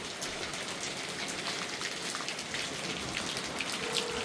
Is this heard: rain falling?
yes